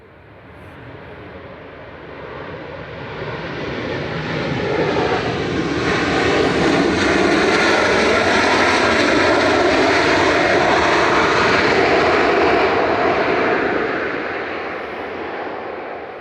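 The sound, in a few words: Ryanair Boeing 737-800 arriving, jet engines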